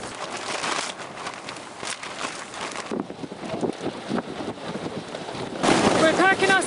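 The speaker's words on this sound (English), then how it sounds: "And then the wind started." Strong wind batters a high mountain camp among tents, roaring and buffeting the microphone in rough gusts that swell louder near the end, with indistinct voices faintly under the noise.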